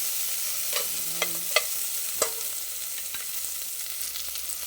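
Lemongrass dropped into a frying pan for a Filipino sautéed mung bean dish sizzles steadily, with a few soft clinks and stirring taps from a utensil. The pan is heard close, and nobody speaks.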